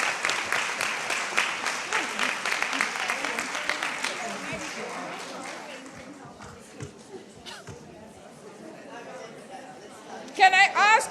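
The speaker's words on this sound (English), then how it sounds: "Please join me in giving all of them a big round of applause." Loud applause from a conference audience after a closing session on women's health, dense clapping that thins out into murmuring chatter and movement, followed by a brief closing burst of clapping near the end.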